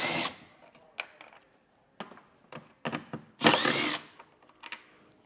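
Power drill backing out Phillips head screws from a 2017 Subaru Outback taillight, short whirring bursts broken by pauses, with one longer, louder run near the end.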